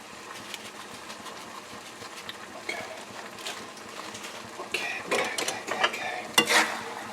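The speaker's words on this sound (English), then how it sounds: "Stir it up again, mix well." Rigatoni with sausage and parmesan cheese is stirred in a pot, giving soft scraping and clinking of the spoon with a light sizzle, growing busier and louder toward the end, with no talking.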